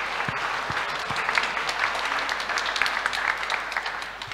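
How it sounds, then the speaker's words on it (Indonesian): Church congregation applauding at a Christmas Eve Mass, a steady, dense patter of many hands clapping at moderate level for about four seconds, with no speech over it. "Kita beri aplaus."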